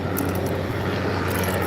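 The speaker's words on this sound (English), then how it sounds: "Oh, chopper." Helicopter passing overhead outdoors, a loud continuous rotor and engine roar filling the short moment.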